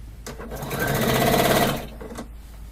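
A sewing machine stitching a quilt runs in one steady, close, fairly loud burst of about a second and a half, with quieter handling noises before and after.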